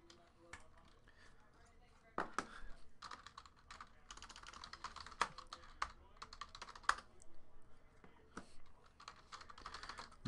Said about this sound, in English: Let's type in these hits.